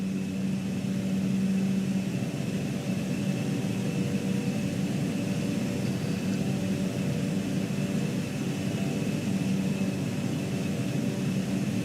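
Steady turboprop engine drone of an ATR airliner in Microsoft Flight Simulator 2020, running continuously at low throttle with a constant tonal hum and broadband rumble, loud and unbroken.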